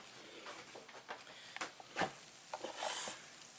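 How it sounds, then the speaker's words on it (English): Chaffle batter is stirred in a bowl: soft, close scraping and rubbing strokes in an irregular rhythm, faint overall, with a brighter swishing burst near the end and no voices. "And I'm just going to mix that in there."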